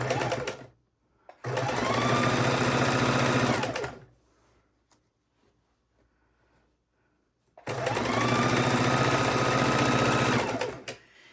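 A sewing machine stitches binding onto a Christmas quilt in two long, steady, close runs of rapid mechanical whirring, separated by a few seconds of near silence.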